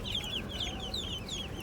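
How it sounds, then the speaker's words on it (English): Baby chicks peep in quick, high, thin chirps, about four short rising calls in a row over a steady low background hum, with no talking. "I want to buy some chickens. Little baby chickens."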